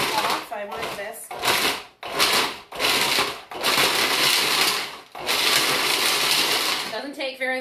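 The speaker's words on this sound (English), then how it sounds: "I'm just going to blitz this real quick just till it's grated" A blender or food processor blitzes food until grated, in loud bursts: several whirring pulses separated by short pauses, with a brief voice near the end.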